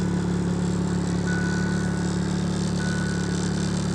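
A turbocharged car engine idles rich just after starting, a loud, steady, even rumble with a faint whine held constant and close throughout.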